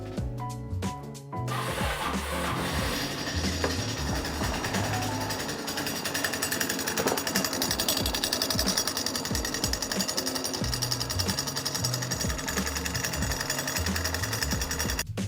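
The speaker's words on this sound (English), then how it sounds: "that clutch is pretty loud" A 1987 Honda Elite 250 scooter's clutch rattling loudly in a continuous, dense clatter that runs the whole clip, with a brief burst of separate knocks at the very start and no talk over it.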